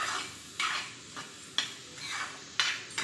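Onion for pyaz kachori gently sizzles in a pan as a spoon stirs and scrapes against the metal in several distinct strokes, close and fairly quiet.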